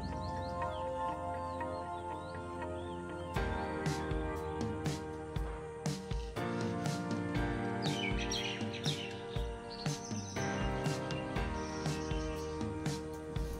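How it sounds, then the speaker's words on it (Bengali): Birds chirping and calling around a resort in Shantiniketan at dawn, a steady chorus of overlapping tweets and short calls, some close and sharp, others farther off, running throughout. "পরের দিন ভোরবেলা ঘুম ভাঙল পাখিদের ডাকে"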